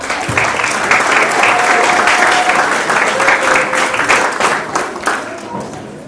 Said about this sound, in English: Please welcome to the stage and give a round of applause to Imam Zayd Hussein.